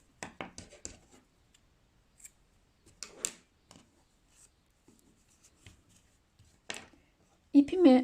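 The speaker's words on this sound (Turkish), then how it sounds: "bir tane zincir çekip ipimi kesiyorum" Scissors cut crochet yarn while a daisy hair clip is being made, producing several quick, crisp snips and light handling rustles close by, with a brief voiced sound at the end.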